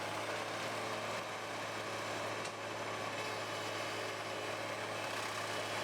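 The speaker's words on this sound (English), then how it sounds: "The blades rotate at high speeds, allowing them to chip even the thickest logs with minimal resistance." A Komptech Chippo 8010C wood chipper runs with a steady, low machine drone and a constant hum, held at an even, fairly faint level without breaks.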